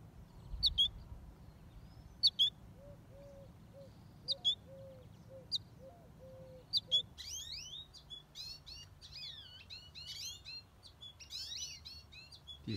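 A goldfinch chick calls outdoors, giving short high chirps, sparse at first and then in quicker clusters, faint against a low background hum.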